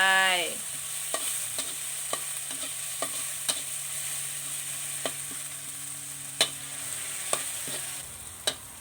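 Crispy fried fish and holy basil are stir-fried in a hot pan: a constant sizzle runs underneath while a spatula scrapes and clacks against the pan in regular, sharp strokes, with no voices.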